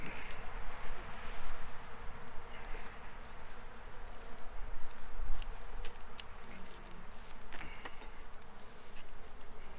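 Honey bees in a hive in late autumn give off a dense, steady buzzing hum with occasional sharper close wingbeats, loud and continuous throughout with no talking.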